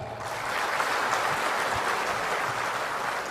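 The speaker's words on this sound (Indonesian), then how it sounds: "Tepuk tangan untuk Sumatera." Audience applause at an Indonesian ministry gathering, a steady broadband clatter of many hands that holds evenly for a few seconds with no voices on top.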